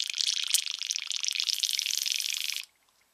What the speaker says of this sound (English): connect to my air hose, and I'll give it a wee blow back.